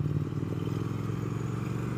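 Triumph Speed Twin 1200 parallel-twin motorcycle engine, 2019 model, droning steadily and close while being ridden, with a continuous low rumble and slight mechanical clatter throughout, no talking.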